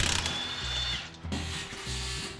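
Ratchet wrench turning lug nuts to remove tires from a truck in a shop, short bursts of rapid clicking and whirring with brief pauses between them, close and fairly loud.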